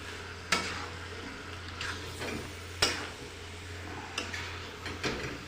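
A spoon stirs tilapia fish curry in a pan, giving several distinct scraping strokes at irregular intervals over a soft, steady sizzle.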